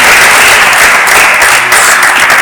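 Loud, dense audience applause fills a church gathering, continuous close clapping with no talk over it, holding steady the whole time.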